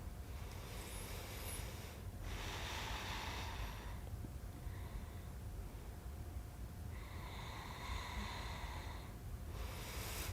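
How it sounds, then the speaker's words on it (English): Slow, deep yoga breaths in a backbending pose: long, airy inhales and exhales of a few seconds each, rising and fading over a constant low background hiss. "We'll take a few breaths."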